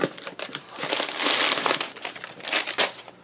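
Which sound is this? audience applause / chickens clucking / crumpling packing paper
crumpling packing paper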